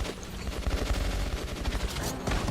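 Gunfire in the Metro video game, a rapid run of close shots and bursts packed densely across the whole stretch, loud and continuous with no talk over it.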